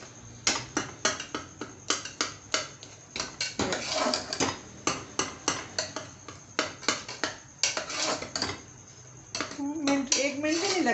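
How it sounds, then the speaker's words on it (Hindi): Tomatoes mashed into masala in a pan, with repeated rhythmic tapping and scraping of a spoon against the pan, close and fairly loud, a voice briefly audible near the end. "एक सेकंड में टमाटर सारे मैश हो जाएंगे।"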